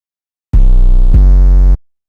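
A heavily distorted 808 bass from a vocal trap beat, using a preset called Church, plays alone in two loud, booming hits, the second struck straight after the first.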